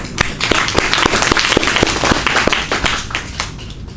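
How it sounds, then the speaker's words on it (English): Applause from a seated audience after a student's persuasive speech about cutting down on fast food, with sharp individual claps standing out over a steady ripple of clapping that lasts throughout. "Round of applause."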